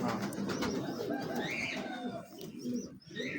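Pigeons in a breeder cage coo close by, with soft throaty warbles and a few sharper chirps mixed in over a low rustling background.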